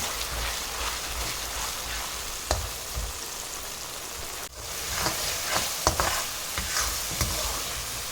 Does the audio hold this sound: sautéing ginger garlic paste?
yes